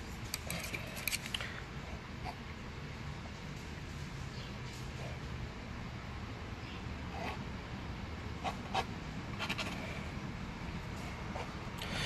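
A palette knife spreads green oil paint, producing faint, scratchy scrapes that come in irregular bursts over quiet room tone in an artist's studio.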